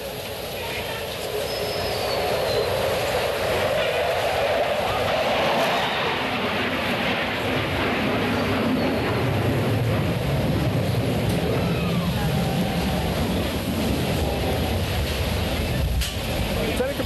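Jets flying a knife edge pass at the 1987 Moffett airshow roar in loud and hold a broad, sustained rush for many seconds, with an announcer speaking over the noise.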